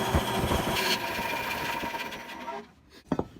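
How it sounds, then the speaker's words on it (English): A bandsaw cuts through wood for a phone holder, a steady close mechanical whir that runs for a few seconds and then winds down, with a short knock near the end. "Hit this thing on the bandsaw here behind me."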